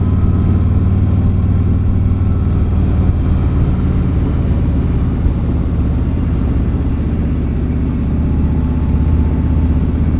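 A Harley-Davidson motorcycle engine rumbles loudly and steadily, a deep continuous throb held close throughout without distinct rev peaks or talking.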